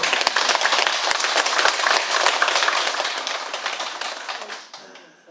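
A Buddhist dharma-talk audience breaks into loud, dense applause lasting several seconds, many hands clapping at once before it fades away at the end.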